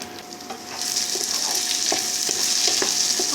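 Ginger and garlic fry in a pan with a loud steady sizzle that swells after the first second, broken by repeated scraping stirs of a spatula, close and alone.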